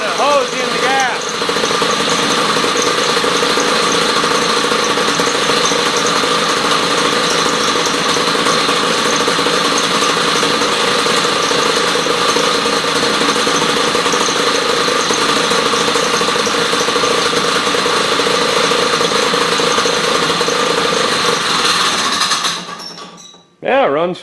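A 1969 Sno Jet snowmobile engine runs steadily and loud for over twenty seconds on a small amount of fuel, a constant droning buzz that cuts out abruptly near the end.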